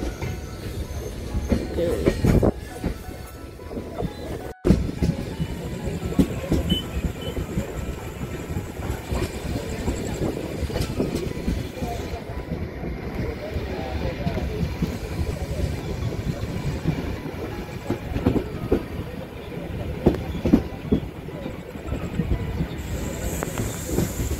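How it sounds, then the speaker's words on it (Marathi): Madgaon–Sawantwadi–Diva Express (10105) running past the outer signal of Apta station on the Konkan line, a steady loud rumble of wheels and carriages with rhythmic clatter and occasional squeals, continuous and close. "आपटाच्या आउटरला 10105 मडगाव सावंतवाडी दिवा एक्सप्रेस, मडगाव सावंतवाडी दिवा"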